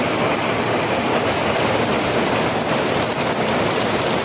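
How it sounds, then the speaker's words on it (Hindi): Heavy rain pours hard and without a break, a dense, loud, unbroken hiss of falling water that stays even throughout with no talking. "देखु एपट प्रबल वर्षा आउछि बहुत जोर से वर्षा आउछि"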